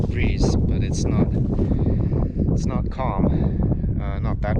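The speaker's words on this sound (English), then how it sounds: "It handles pretty strong wind, as you can hear. It's going to blow right in the microphone." Strong gusts buffet an outdoor microphone, a constant loud rumbling roar with flutter and rustle throughout, overwhelming everything else.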